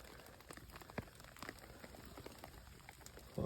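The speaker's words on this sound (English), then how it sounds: "The rain is still chucking it down." Heavy rain pelts down steadily at a fishing spot during spring carp fishing in the UK, a dense hiss with scattered close drops pattering, and a louder burst of rain noise near the end.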